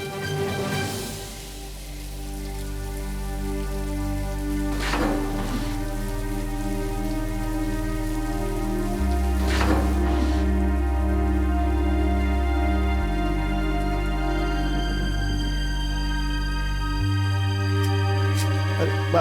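Heavy monsoon rain falls in Mumbai, a dense, continuous patter of drops on surfaces under steady background music tones, with no speech.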